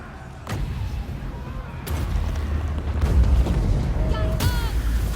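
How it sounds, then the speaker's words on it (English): Explosion spell booming in a Carcassonne video game, with several loud blasts and rumbling bursts in succession, a crackling low roar sustained between them and faint voices in the background. "The explosion spell is mainly slow, but it can do some damage, especially on the walls."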